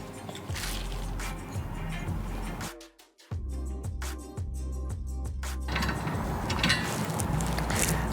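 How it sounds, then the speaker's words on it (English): Nuts are run down bolts on a steel light mounting bracket of a rally bar, with quick repeated ratcheting clicks in a brief burst mid-way, surrounded by soft handling noise and background hum. "we just want to run the nuts down the bolts"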